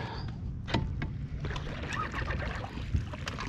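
Low, steady outboard motor idling on a lake, a continuous rumble with faint water lapping, no talking.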